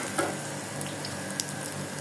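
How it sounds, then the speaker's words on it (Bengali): Food fries crisp in a pan with a soft, even sizzle and a few faint ticks and pops, quiet and close, with no talking. "এটা একটু কড়া করে ভাজা হবে।"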